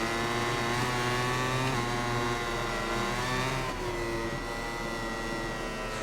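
A racing motorbike engine in the video game MotoGP 21, screaming at high revs with continuous dense harmonics, pitch dipping and climbing as the bike brakes and accelerates through a corner. Loud and close, with no talking.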